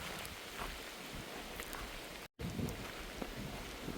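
Steady rain patters on the Appalachian Trail in North Carolina, a soft continuous hiss of drops heard quietly from nearby with one brief dropout midway.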